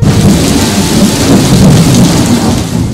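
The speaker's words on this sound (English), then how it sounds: "the storm made such a clatter" A thunderstorm roars with dense, heavy rain hammering down and a continuous low rumble of thunder, loud and close throughout.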